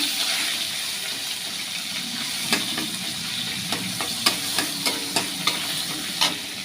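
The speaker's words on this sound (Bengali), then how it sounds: "এবার মশলাটা দিয়ে দেবো একটুখানি ভাজা ভাজা হোক" A ground spice mix of rice, melon seeds, poppy seeds, ginger and dried chillies frying in oil in a pan, a soft continuous sizzle with a run of sharp spatula scrapes and clicks in the second half, close up, no talking.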